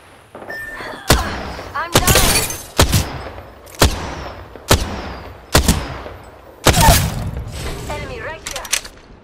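Gunfire in the battle game Apex Legends: sharp, loud shots cracking out one after another at roughly one-second intervals, each with a short echoing tail, with occasional bursts and mechanical clinks between them.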